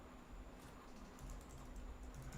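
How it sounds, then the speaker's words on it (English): Soft, quick keystrokes on a computer keyboard tap in an irregular run, faint and close, with a low steady hum beneath and no talking. "And press the right keys on the keyboard"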